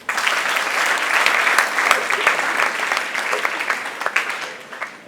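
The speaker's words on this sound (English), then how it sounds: "Let us clap for them." Sustained applause from a school audience at a prefect handover ceremony, clapping for the outgoing prefect cabinet; dense, steady clapping fills the whole stretch at close range, with no talk.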